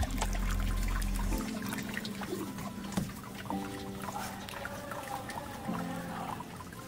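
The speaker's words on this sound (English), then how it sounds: "We'll wash it thoroughly, then pour nitric acid again," Nitric acid is poured onto e-waste scrap for gold extraction, a steady liquid trickle and splash with small clinks, sitting close and moderately loud.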